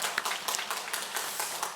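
Church congregation clapping during a Sunday service, a brief burst of scattered hand claps that fills the room at moderate level without any talk over it.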